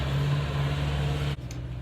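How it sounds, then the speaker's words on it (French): A truck idles close by with a steady low engine hum that drops away abruptly near the end, leaving a quieter background. "Le camion il est trop là pour sauver l'ambiance quoi."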